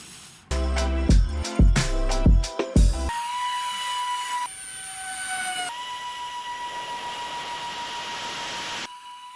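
A 3D-printed RC VTOL aircraft on its first test flight, with electric motors spinning up to a steady high-pitched whine and droning hover after a burst of choppy sputtering pulses, loud and continuous.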